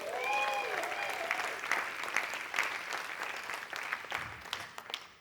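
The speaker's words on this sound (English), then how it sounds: "Give yourself a round of applause." Conference audience applauding at the close of a 2025 conference for LGBTQIA+ emerging adults: sustained, moderately quiet crowd clapping lasting throughout, with brief tonal cheers or whoops near the start.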